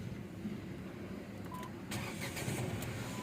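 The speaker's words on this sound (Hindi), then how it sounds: "अब मैं स्टार्ट कर लेता हूँ गाड़ी।" Nissan Magnite CNG car engine starting, the crank catching at around two seconds and settling into a steady mid-pitched idle over a quiet background hum, with no voices.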